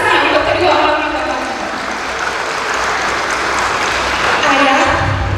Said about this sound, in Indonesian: Boleh kita tepuk tangan apresiasi sebesar-besarnya untuk kedua orang tua.